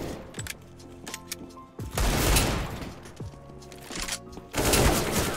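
Desert Eagle pistol fire in Counter-Strike: Global Offensive comes in two loud bursts of heavy shots over a steady background of tonal game sound.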